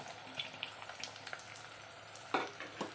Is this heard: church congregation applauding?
no